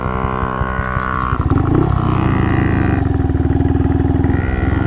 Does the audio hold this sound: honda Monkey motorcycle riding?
yes